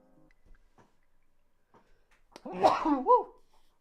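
A single close sneeze bursts out after a few seconds of near silence, sharp and loud with a brief trailing tail.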